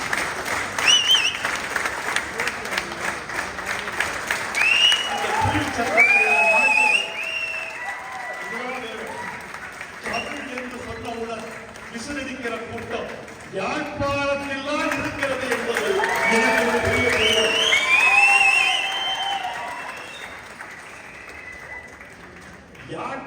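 Audience applause for a Tamil speech in Jaffna, a broad, sustained wash of clapping over roughly twenty seconds, with a speaking voice rising over it and fading in and out.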